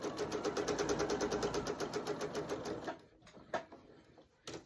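A sewing machine stitches a denim blue jean gift tag in a fast, steady run of needle strokes for about three seconds, then stops, leaving a few faint clicks and handling sounds.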